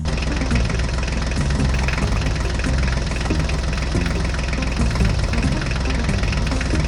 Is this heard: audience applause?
no